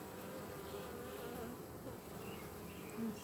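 Worker honey bees in a package hum with a steady, close buzz while the colony waits for candy to be fitted in, continuous throughout with no speech.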